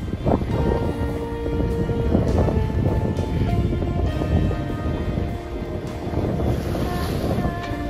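Wind rushes over a sailboat running under sail off southern Italy, a loud continuous roar mixed with water slap and creaking rigging tones that persists throughout, with no speech.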